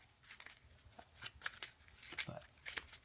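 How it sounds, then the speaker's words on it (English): Playing cards are shuffled gently and quietly up close, a few light riffling snaps and paper flicks scattered over a few seconds while a soft voice talks alongside. "I try not to shuffle too loudly."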